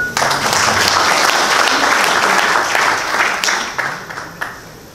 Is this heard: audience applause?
yes